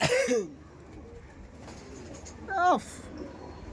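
Punjabi pigeons coo in two bursts, one at the start and another near the end, close and fairly loud, with quiet room noise in between.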